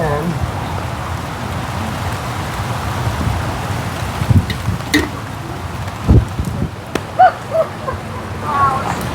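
Rain falling outdoors during a frost-proof hose bibb install, a steady hiss of drops with a few louder knocks and rustles, and someone speaking now and then.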